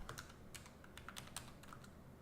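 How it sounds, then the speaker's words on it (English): Typing on a computer keyboard during a live trading chart session: quick irregular bursts of crisp key clicks close to the mic, with no talking. "Let me type this in too."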